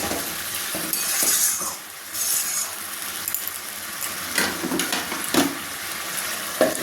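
A spoon stirring jackfruit and prawn curry in a pan, with light metallic clinks and scraping over a soft sizzle, close and fairly quiet, without talk.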